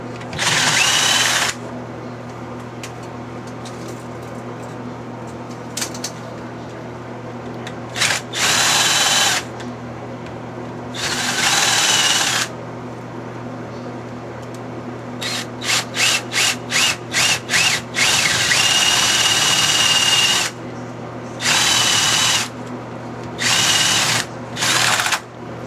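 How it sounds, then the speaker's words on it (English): A power drill bores holes into a door edge for a security screen door lock box. It whines in several long bursts with pauses between them, then in a run of quick short pulses, then more bursts, all close and loud. "I drilled the 3 holes"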